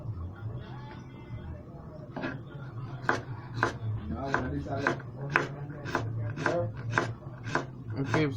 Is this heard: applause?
no